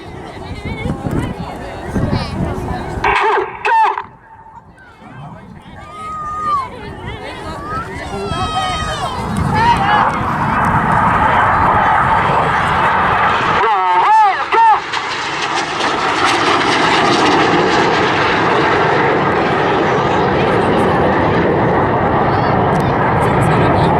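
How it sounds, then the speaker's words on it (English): Red Arrows synchro pair jets dive low for a final crossing pass at Southport Airshow 2022. A loud jet roar swells and then holds as a sustained rushing drone, with a crowd and talk audible. "the synchro pair will be diving down for their final pass at that 100 feet and over 700 miles closure"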